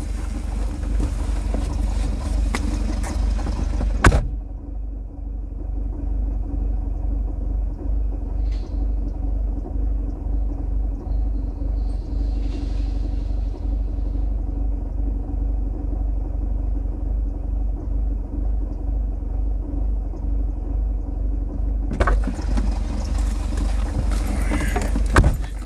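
A vehicle engine idles and rumbles steadily up close, with a brief mechanical clatter at the start and end as it moves slowly in.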